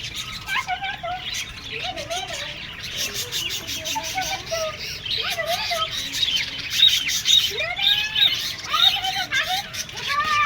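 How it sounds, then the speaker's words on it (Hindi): Small birds chirp and twitter repeatedly in a park over a steady background hiss, with quick high calls scattered throughout and a few squawky notes. "इसमें छोटे छोटे आपको चिड़िया दिख जाएंगे और इसकी प्यारी प्यारी आवाज़ भी आप देख सकते हैं"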